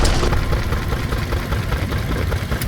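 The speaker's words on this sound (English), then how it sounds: "So just a wonderful engine, and they just seem to go and go and go." A vintage Southern Cross stationary engine from the 1932–1942 era, fitted with a cooling tank, runs steadily with a continuous low, throbbing idle that stays loud and even throughout, with no voices.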